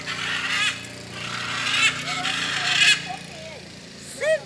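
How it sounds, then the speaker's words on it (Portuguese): Hyacinth macaw in interior São Paulo gives a series of harsh, loud squawking calls, four or so separated bursts over a quieter outdoor background with faint voices. "Arara azul."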